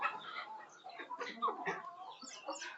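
Chickens on a poultry farm cluck and chatter close by in short, overlapping bursts, with a soft background of further birds.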